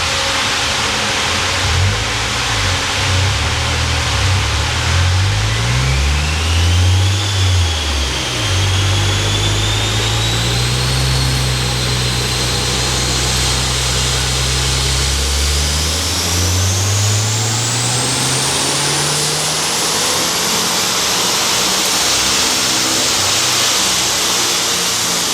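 A 2026 Subaru WRX with bolt-on upgrades roars on a dyno, the engine climbing steadily through the revs in one long, loud pull with a rising whine, close and continuous with no talking.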